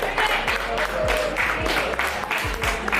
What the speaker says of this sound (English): So let's keep cheering George on